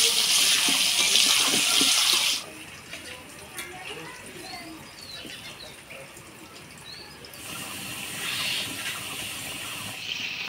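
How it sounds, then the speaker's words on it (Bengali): Potatoes fry in hot oil with a loud steady hiss and sizzle that drops to a quieter crackle and then swells again, with a voice speaking over it. "তেল গরম হয়ে গেছে, এবার আলুগুলো ভেজে নেব।"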